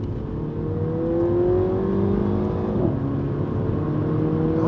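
A 2017 Mini Countryman Cooper S accelerates in manual mode with paddle shifts, its engine note climbing steadily in pitch, dropping at a gear change, then rising again over road and cabin noise.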